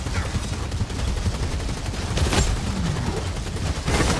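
Dense, continuous gunfire from the video game Vermintide 2 rattles in rapid bursts, loud and close throughout, with no talking over it.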